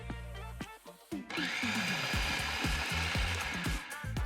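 A food processor pulses strawberry cheesecake frozen yogurt made with honey, freeze-dried strawberries and cheesecake bits, giving a series of short, loud bursts of whirring motor noise with brief gaps between them.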